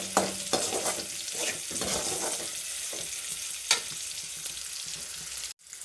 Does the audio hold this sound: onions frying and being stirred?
yes